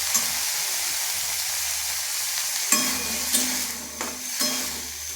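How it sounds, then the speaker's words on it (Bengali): Boiled chickpeas fry in oil in a home kitchen, giving a steady close sizzle with occasional stirring scrapes and clinks, and no voices. "আর ছোলা সিদ্ধটা ভাজছি তেল দিয়ে।"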